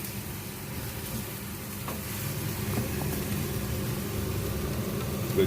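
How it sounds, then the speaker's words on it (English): Young jackfruit cooking in a pan, being stirred for a quick turn, gives a steady low sizzle with faint scraping ticks, fairly quiet and continuous throughout. "And then we'll just give it a quick stir."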